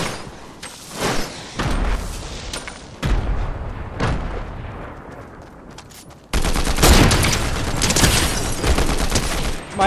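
Video game sniper fire with sharp, loud single shots ringing out at intervals, followed by a sustained heavy barrage of gunfire in the last few seconds.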